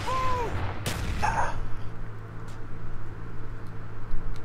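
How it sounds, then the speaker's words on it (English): Gunfire and a sharp blast from an online first-person shooter match: a loud burst of shots at the start is followed by rumbling, scattered distant pops and mechanical clatter, with faint voices in the background. "Grenade!"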